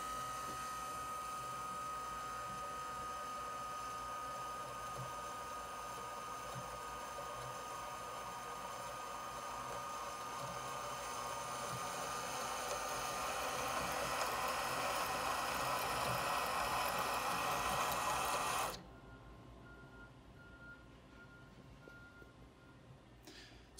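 A King Quilter II long-arm bobbin winder runs steadily for about nineteen seconds with a whirring motor hum that builds slightly before stopping abruptly, leaving only faint background hum.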